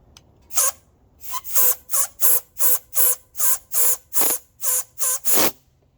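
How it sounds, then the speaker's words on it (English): Compressed air is blown in short repeated bursts through a windshield washer nozzle hose line from the reservoir under a car hood, about a dozen sharp hissing puffs in a steady rhythm, close and loud with no talking. "I'm going to blow some air through it."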